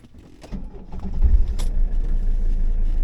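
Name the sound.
car being started, engine running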